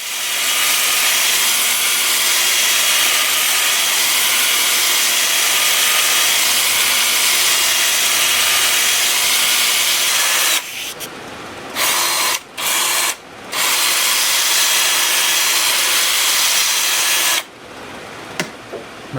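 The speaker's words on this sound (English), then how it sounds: "My drill's getting noisy." A worn, noisy power drill runs loud and steady, grinding against wood as it sands a woodturning piece, with a few brief dropouts and pauses near the end.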